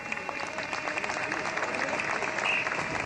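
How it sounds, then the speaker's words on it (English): Spectators at a 1994 world championship event clap steadily for a few seconds, a fairly even burst of applause heard close without talk over it. "A few spectators here all applaud that one."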